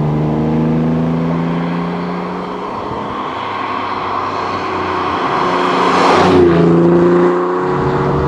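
A TVR Tuscan sports car engine drones steadily and close, its pitch rising and falling as it revs and accelerates, with no voices.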